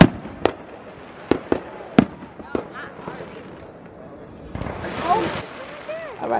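Outdoor New Year's fireworks go off in a string of sharp, loud bangs at irregular intervals, then a burst of crackling. Voices can be heard faintly in the background.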